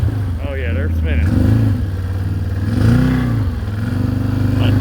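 A 2017 Can-Am Maverick 1000R XMR engine revs hard while its tires spin in mud, a loud close rumble that rises and falls, with someone talking over it.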